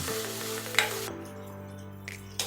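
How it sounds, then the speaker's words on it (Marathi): Chopped tomatoes with onions frying in a pan for a Maharashtrian chawli (black-eyed pea) usal give a soft, steady sizzle and crackle, with a couple of light stirring clinks, close and moderately quiet, no talking. "इथे आपले टोमॅटो शिजू लागले आहेत।"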